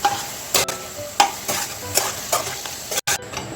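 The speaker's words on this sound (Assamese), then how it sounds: "ভালদৰে লৰাই দিম আৰু পানীখিনি শুকাবলৈ দিম।" Chicken dry fry being stirred in a pan to cook off the water, a steady sizzle broken by repeated scraping strokes of the spoon, close and clear with no talk.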